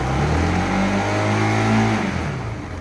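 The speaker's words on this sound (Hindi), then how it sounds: "मैं दूंगा रेस।" Bajaj Pulsar RS200 motorcycle engine revving hard, a loud close rising roar that holds briefly and then drops back toward idle, with no talking.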